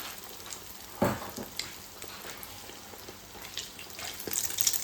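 Bread frying in a pan while breakfast is cooked at home, a quiet, steady crackle and sizzle with a sharper clatter near the start and faint spatters toward the end.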